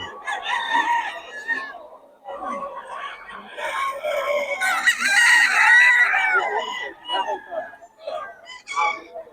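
Chickens cluck and roosters crow in overlapping bursts at a poultry market in Bocaue, Philippines, loud and near, a crowded flock calling with brief lulls between.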